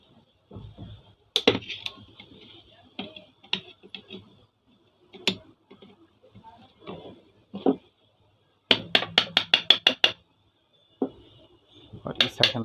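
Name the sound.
hammering on fan body to remove bearing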